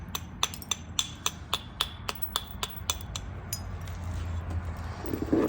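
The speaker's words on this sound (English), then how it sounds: "And notice on all of these, I'm abrading quite heavily." Abrading the flat edge of a flint point while flint-knapping: a steady run of about a dozen sharp, bright clicking strikes in an even rhythm, close up, then fading into softer scraping and rustle.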